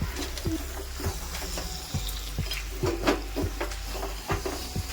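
Chicken with chopped tomatoes being stirred and fried for chicken bhuna masala at low to medium heat, a soft steady sizzle broken by repeated close spatula scrapes and knocks against the pan.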